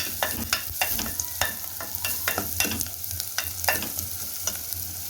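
Chopped onions for a mutton gravy are sautéed in a hot pan and stirred: a close, steady sizzle of frying with repeated scraping strokes of the spoon, and no voices.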